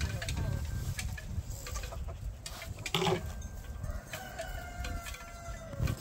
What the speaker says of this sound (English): See, this is a rooster.